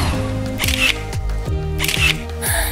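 A camera shutter clicks twice as photos are taken during a family dress-up scene in a cartoon. Each click is a short, sharp snap over steady background music.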